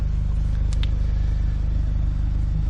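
VW MK6 GTI engine fitted with a CTS intake, ARM downpipe and aftermarket exhaust idles with a steady, deep pulsing burble, close and even throughout, with no talking.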